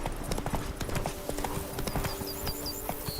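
Roach, the horse in The Witcher 3, clip-clops with quick, close hoofbeats that continue throughout, along with faint game ambience and chirping in the background.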